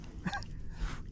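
A dog in the water at the lake of Sainte-Croix-du-Verdon gives a brief, close whimpering yip, a single short vocal burst lasting about a second.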